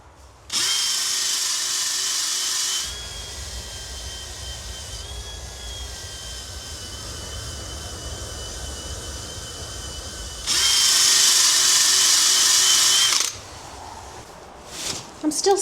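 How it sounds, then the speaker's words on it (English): A power drill runs for a long stretch during restoration of a Victorian wash copper in a garden shed, with loud high-speed whining bursts at the start and near the end and a steadier, quieter motor hum between. "Are you meant to run a drill for quite that long?"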